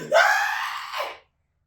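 A person vocally imitates the screaming goats from Thor: Love and Thunder, giving one drawn-out, strained scream that rises sharply, holds, then cuts off into silence.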